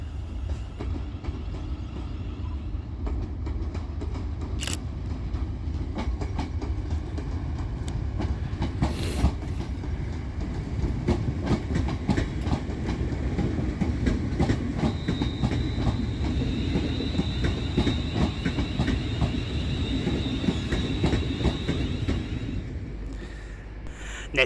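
Class 350 electric multiple unit 350-368, a London Northwestern Railway service to London Euston via Rugby, runs through Crewe station with a steady rumble and rattle of wheels on track, a brief high squeal rising over the passing cars.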